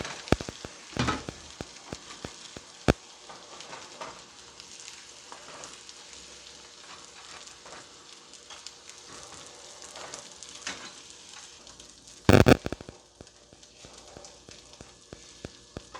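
Food warms in a frying pan, with a quiet, steady sizzle running throughout, broken by a couple of sharp knocks and one louder clatter near the end.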